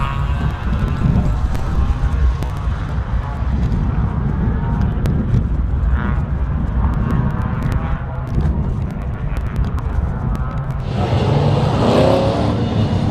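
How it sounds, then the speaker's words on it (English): Improved production race cars rumble past at low speed onto the grid at Phillip Island, a loud continuous engine drone with shifting tones as several cars roll along together. "They're coming around the final corner now, just rolling down onto the grid."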